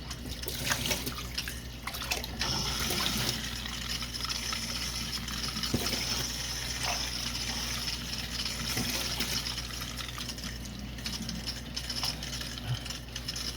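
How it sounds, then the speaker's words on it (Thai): Cold tap water runs steadily over freshly boiled khanom jeen rice noodles, a continuous close splashing gush with occasional drips throughout, with no talk. "เปิดน้ำเปิดน้ำเย็นครับผม"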